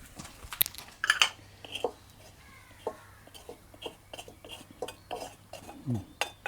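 A spoon scrapes and clinks against a pot while curry is stirred in a village kitchen, with irregular metallic taps and scrapes at close range and faint voices in the background.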